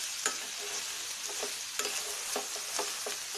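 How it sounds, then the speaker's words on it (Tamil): Food is stirred in a frying pan over a steady hiss of frying, with a handful of sharp scrapes and taps from the utensil spaced irregularly across a few seconds. "நல்ல கிளறி விட்டுருங்க."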